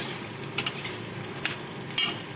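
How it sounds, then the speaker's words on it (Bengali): Pointed gourd fries with turmeric and green chilli in a pan, a soft continuous sizzle punctuated by a few crisp clinks and scrapes of a spoon stirring, no voices. "হলুদ পটল ভাজা হচ্ছে"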